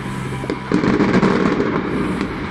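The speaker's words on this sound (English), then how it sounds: "this is the firework display" A fireworks display over London on a November night, heard from a balcony, bursts loudly with crackling pops and booming thuds piling over one another.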